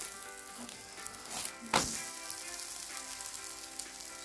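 Gluten-free msemen flatbread fries in oil in a pan, giving a steady close sizzle throughout with a few brief louder pops and crackles and no talking.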